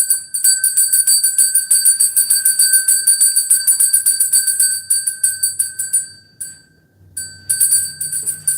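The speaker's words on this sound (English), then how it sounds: "Now I can ring the bell." A small bright bell rings in quick repeated strokes, loud and close, with a steady ringing rhythm for about six seconds, a short gap, then more strokes. Faint low sounds sit underneath.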